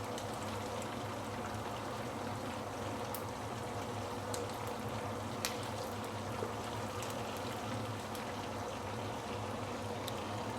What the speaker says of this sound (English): I prefer to over fry it a bit more